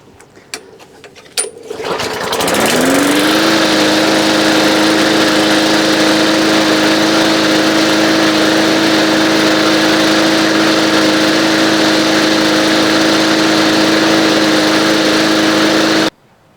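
After one priming shot and a couple of pulls, a small lawn mower engine, recently cleaned with its carburetor worked on, catches and runs at a loud, steady drone for about fourteen seconds before cutting off.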